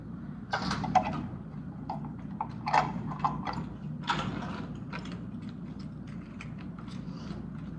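A lockout padlock goes onto an industrial valve with a run of small metallic clicks, clacks and rattles, close and fairly quiet, irregular taps spread over several seconds.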